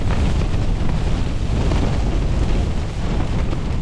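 Strong wind roaring outdoors on a snowy night during a lightweight bivvy camp, a loud, dense, unbroken rush battering the microphone with no voices.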